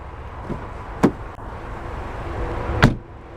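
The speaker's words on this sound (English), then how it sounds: "I love the way these doors sound." Two solid 2014 BMW X1 sDrive28i car door slams about two seconds apart, loud and close, each a sharp thump over a low steady background hum.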